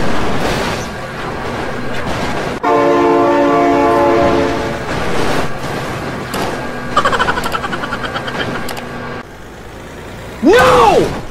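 A train rumbles past in a truck-and-trailer vehicle game, its horn sounding in a long loud blast over the rolling noise, then a few later bursts and a sharp rising whoosh near the end.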